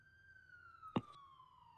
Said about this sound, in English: We hear the sirens.